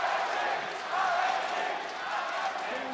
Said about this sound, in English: A lot of cheers in the crowd for RNG.